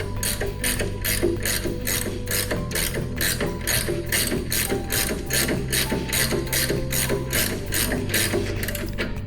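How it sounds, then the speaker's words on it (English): A wrench ratchets rapidly and steadily up close, lowering a spindle on a 2020 Voorwood A26 dual spindle coping shaper, a dense run of sharp clicks over a low machine hum. "We're gonna come in with a wrench, and this is what takes all of your time, is you are going to lower one of your spindles."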